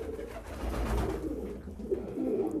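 Pigeons coo steadily on a meat pigeon farm in Damietta, several birds overlapping in low, throaty calls that fill the space continuously and close to the microphone.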